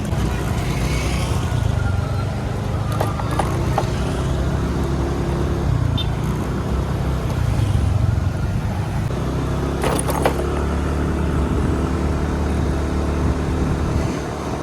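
Idling vehicles crowd a railway crossing in Indonesia, a steady low rumble of engines with a few brief clinks and metallic jangles, no voices, sustained throughout.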